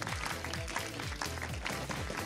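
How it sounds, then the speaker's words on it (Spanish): Audience applause at a children's crafts camp workshop, a dense patter of many hands clapping steadily for a couple of seconds, moderately near, under faint background music. "Un fuerte aplauso para Toallitas Mágicas."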